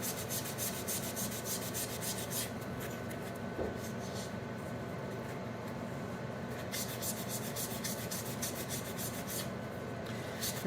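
Continuous close scratching of hand sanding wood with 1000 grit sandpaper, with quick rhythmic strokes in bursts and an air purifier humming steadily underneath, no talking.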